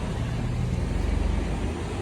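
A truck towing a semi-trailer creeps forward while manoeuvring, a steady low diesel rumble close by with a faint rhythmic pulse and broadband road noise, no voices.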